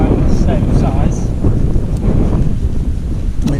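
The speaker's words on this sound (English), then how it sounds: "It's getting windy now." Wind buffets the microphone in rough gusts while carp fishing outdoors, a loud rumbling roar with faint outdoor sounds beneath.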